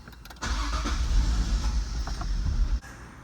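Datsun 280ZX being cranked, its engine catching and firing briefly for about two seconds before cutting out, close and loud, a whirring start then a rough burst of running, no talk.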